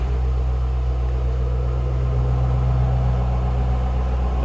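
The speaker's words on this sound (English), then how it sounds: "Nice little rumble of the dual exhaust. Nice sounding car." A 2006 Ford Mustang Shelby GT-H coupe idles steadily through its dual exhaust, giving a deep, continuous low rumble that stays close and even throughout, with no voices.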